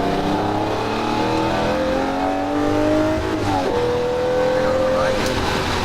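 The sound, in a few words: Lamborghini Murcielago LP640 accelerating at full throttle on speedway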